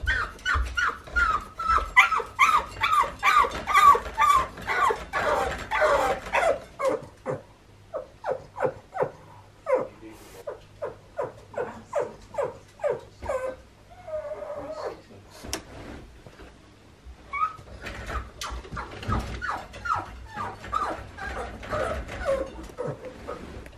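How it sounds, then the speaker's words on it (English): A dog whimpers and gives short yips and barks in a rapid, insistent series close by, with brief pauses and some creaking mechanical noise mixed in. "Who is making that noise? You."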